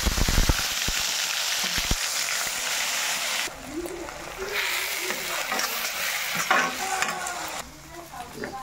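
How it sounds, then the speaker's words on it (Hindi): Cumin seeds and capsicum-chilli paste are fried in oil in a kadai for kadai paneer. A few sharp knocks come first, then a loud, steady sizzle and stirring scrape, with someone speaking over it partway through. "अब मैं कढ़ाई में तेल डाला, इसमें जीरे डालूंगी"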